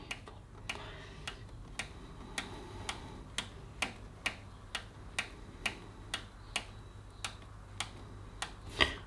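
The rebound adjuster on a Lambretta scooter's suspension being turned through a long series of small, sharp mechanical clicks at an even, unhurried pace, close up and with no talking.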